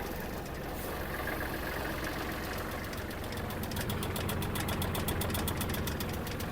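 A Kubota GL-23 Japanese mini tractor engine runs steadily in fourth gear, a continuous close mechanical drone with a faint knocking pulse, revving up slightly toward the end.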